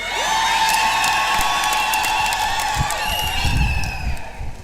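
An audience at a Catholic bishops' jubilee celebration in Moshi claps and cheers, a steady loud wash of applause with shouts and whoops, alongside ringing high tones.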